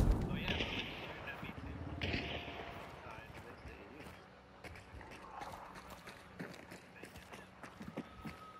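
Distant gunshots echo in a Hunt: Showdown match, a few sharp cracks scattered across the stretch, with a player speaking over quieter ambience.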